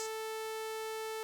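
A steady, harsh synthesized sawtooth wave buzz holds one pitch, bright and rich in overtones, sounding alone without any change.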